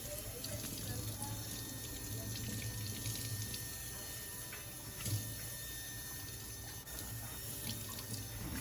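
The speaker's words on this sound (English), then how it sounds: "I am just rinsing off with the regular water." Tap water runs steadily and splashes over a clay pot being rinsed, close by, with a few faint clinks.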